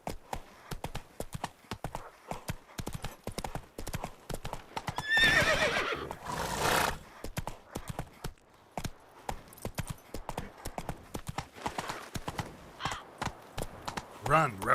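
Roach the horse in The Witcher 3 gallops with quick, crisp clip-clop hoofbeats, then lets out a loud neigh midway before the hooves resume, all close and clear.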